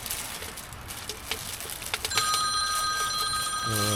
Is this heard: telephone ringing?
yes